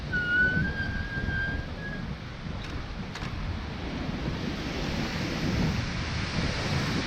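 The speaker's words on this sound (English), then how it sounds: "the wind is pretty severe today at times" Strong, gusty wind roars past during a recumbent bike ride, a loud continuous rushing with a thin whistle early on and a couple of faint clicks.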